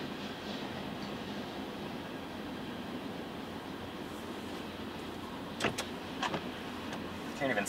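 A very long freight train rolls past in a continuous broadband rumble and clatter, with occasional higher squeals and knocks near the end, while a storm blows in the open country.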